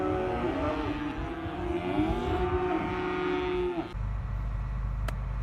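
Cattle bellow loudly and steadily on a farm, a long drawn-out moo close by, with a rumbling low engine-like noise underneath that takes over once the call breaks off.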